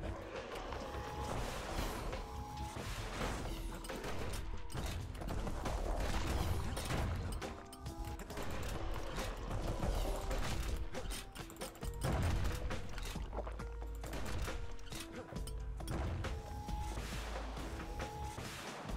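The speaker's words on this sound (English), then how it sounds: "Ooh, grenades." Grenade blasts and clattering combat effects in the action game Bastion, a steady stream of mechanical clanks and thuds with repeated bursts over a busy game soundtrack.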